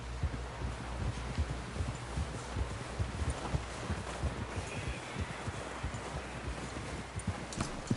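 Horse hooves clip-clop steadily on the ground, a continuous rhythmic patter of close, moderate steps under outdoor ambience, with no clear talking.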